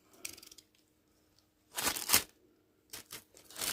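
Blunt scissors hacking at a plastic bag beside a computer build, giving a few short crunching snips early, then two louder bursts of tearing and crinkling plastic with brief pauses between them.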